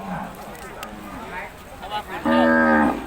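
A cow lets out a loud, drawn-out moo near the end, preceded by softer lowing and bustle at a cattle market in Chiang Wang, Yasothon, Thailand.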